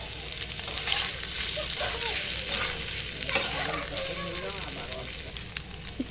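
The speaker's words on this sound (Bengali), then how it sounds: "সয়াবিনগুলো ভালোভাবে ভেজে নেব" Soybean chunks fry in a little oil in a pan, giving a steady broadband sizzle with soft stirring scrapes and clinks throughout.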